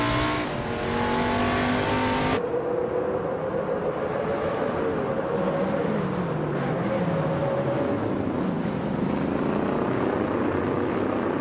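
A racing video game plays a loud, continuous engine drone from a 1972 Ford Torino, with a sudden shift in tone early on, then a steady roar whose pitch sweeps up and down as the car changes speed.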